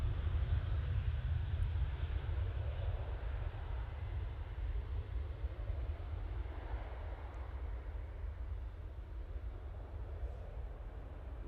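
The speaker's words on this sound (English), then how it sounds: "Fair bit of racket there from the KLM as well." KLM airliner taking off at Manchester Airport, a deep rumbling engine roar strongest at the start and easing slightly as it continues, steady and fairly distant, with no talk.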